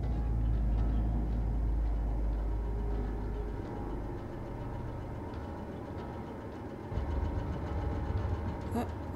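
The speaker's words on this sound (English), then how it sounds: "Why is the engine going?" A low engine rumble running steadily in the video game Man of Medan, loudest at the start, easing in the middle and swelling again near the end, with no talk over it.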